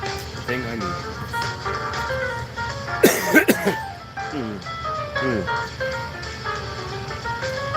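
A man coughs hard in a brief, rough burst midway, set among stretches of his ordinary talk over a low background hum.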